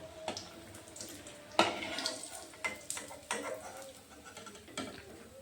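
Kalai dal malpua batter frying in hot oil: a soft, steady sizzle with bubbling, broken by clinks and small spoon scrapes at irregular moments, fairly quiet and close.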